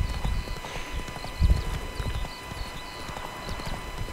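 A horse gallops in The Witcher 3, its hooves clip-clopping in a fast, steady rhythm up close, with a brief snort or whinny and faint bird chirps in the game's outdoor soundscape.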